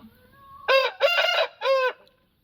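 A parrot-beak breed rooster crows loudly and close by, three strong bursts in quick succession, then quiet.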